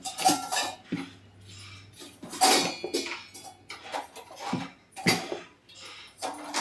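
Repeated scraping and clinking of a spoon against a metal pot while scooping dosa batter, several uneven strokes with short pauses between them, close by.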